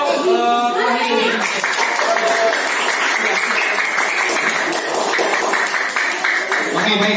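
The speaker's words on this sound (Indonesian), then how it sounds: "Tepuk tangan untuk kelompok ini." Classroom applause for a student group after a presentation, lively clapping from many hands sustained throughout, with a voice speaking briefly at the start.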